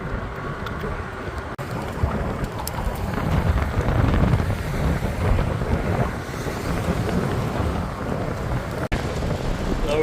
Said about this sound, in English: The wind is it's intense, eh?